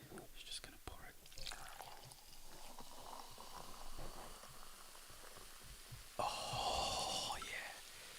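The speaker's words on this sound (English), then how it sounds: "that's a sizzling." Soft close whispering and breathy sounds, then a sudden bright hissing sizzle as liquid hits something hot, continuing steadily to the end.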